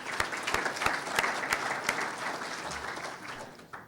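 An indoor audience at a regional school launch event claps in a steady, moderately distant round of applause that thins out and fades at the end.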